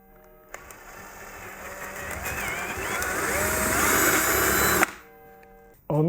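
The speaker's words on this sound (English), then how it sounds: "I need 8 millimeters, so I take the bigger drill and make the hole." Electric drill boring an 8 mm hole, enlarging a 4 mm pilot hole, a steady whirring grind lasting several seconds with wavering pitch, near and moderately loud, then stopping abruptly.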